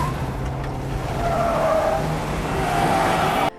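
A car speeds and skids in a film scene, a loud continuous engine roar with a screech of tyres running on for about three seconds before cutting off abruptly.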